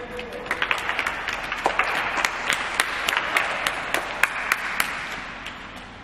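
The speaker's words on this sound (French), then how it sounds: "On va applaudir." A small group, likely schoolchildren on a guided visit, applauds after a pupil's performance, with scattered sharp individual claps standing out over a steady clapping bed.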